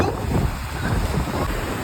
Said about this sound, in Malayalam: കടൽ നന്നായിട്ട് കയറിയിട്ടുണ്ട്